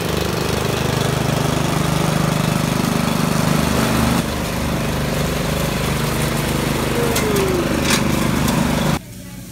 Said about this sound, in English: Mowing the yard.